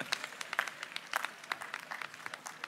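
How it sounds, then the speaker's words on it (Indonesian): A crowd applauds Cahyo at a large school anniversary Mass, with scattered, moderately distant claps forming a steady patter for a few seconds. "Kita beri aplaus untuk Cahyo."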